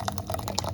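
Blended apple and cherry juice being poured into a container, a brief continuous liquid stream with light splashing, close and fairly steady throughout.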